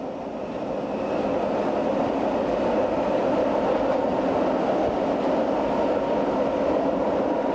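An Appenzell Railways train climbs a Swiss hillside, rumbling steadily along the track, a continuous close roar of wheels and carriages with no talking.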